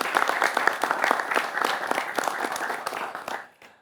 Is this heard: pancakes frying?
no